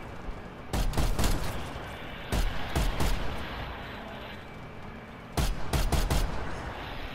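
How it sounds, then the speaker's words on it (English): Bursts of gunfire shooting at zombies in Call of Duty: Black Ops Cold War Zombies Outbreak, several loud automatic volleys in clusters separated by short pauses over steady game background noise. "Whoever's shooting at my zombies, fuck off."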